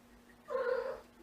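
One brief caterwauling meow from a cat waiting in a house hallway, slightly louder than the quiet background hum and alone without talk.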